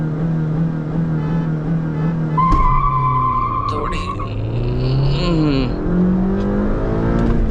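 A Hyundai Verna and a stage 1 tuned Honda City launching side by side in a drag race, loud engines revving and rising with tyre squeal, close up while people talk over it.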